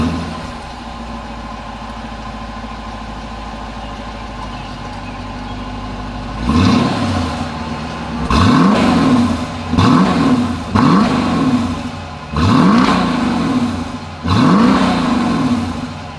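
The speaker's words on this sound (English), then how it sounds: "As always, here is that exhaust clip." A 2020 Dodge Durango SUV engine idles steadily, then revs up sharply several times in a row, each burst rising and falling with a throaty dual-exhaust note, close by.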